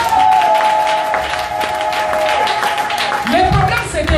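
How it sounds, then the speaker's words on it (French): A church congregation applauding: sustained, dense clapping from a crowd fills the space, with a steady held musical tone underneath that fades out toward the end. "Acclamons Jésus"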